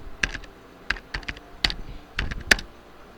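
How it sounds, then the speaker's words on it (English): Typing on a computer keyboard while working on a restaurant flyer in CorelDRAW gives a few quiet, close, irregular key clicks and taps spread over a few seconds. "I come over to my text and type food"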